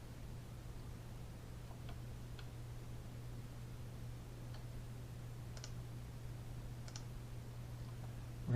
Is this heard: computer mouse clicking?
yes